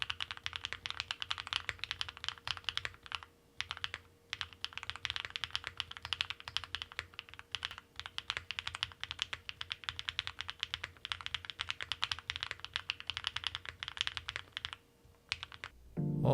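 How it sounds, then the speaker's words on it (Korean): Fast, steady typing on a HIEXA V80 custom keyboard fitted with Ice Blue linear switches, a rapid stream of close, crisp keystroke clacks and thocks with brief pauses, ending in a louder clatter. "이번에는 아이스 블루 스위치로 바꿔서 타건을 한번 해볼게요."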